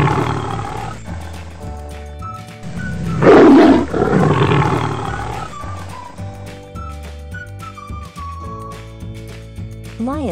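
A lion roars loudly and close, a deep swelling roar peaking mid-clip, with background music and some tonal sounds throughout and no speech.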